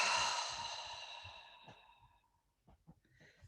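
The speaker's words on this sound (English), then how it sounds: "Take a deep breath in and exhale through your mouth." A long, deep exhale through the mouth during a guided breathing exercise, a breathy sigh that fades gradually over about two seconds, followed by quiet faint rustles.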